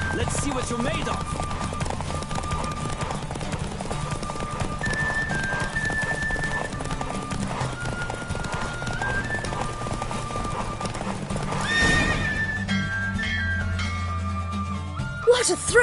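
Horse hooves pound in a steady galloping clip-clop during a race in Witcher 3, with an occasional neigh, under game music and voices talking throughout.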